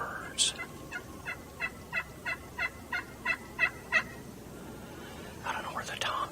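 Wild turkeys, young jakes, gobbling in a rapid run of about a dozen evenly spaced calls, moderately close, followed by a burst of other bird calls near the end.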